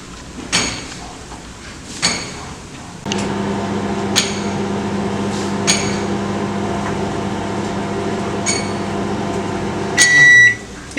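A microwave oven melting chocolate compound: a few sharp door and button clicks, then a steady humming drone for several seconds, ending in a bright beep and a final click.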